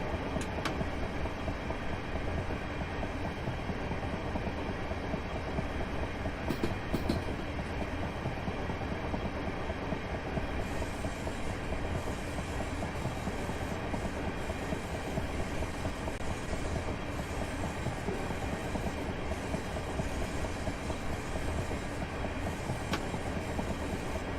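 A Class 375 electric multiple unit running on rails in Train Simulator 2018 near Wandsworth Road, a constant loud rolling rumble with faint rhythmic wheel clicks, steady throughout with no voices.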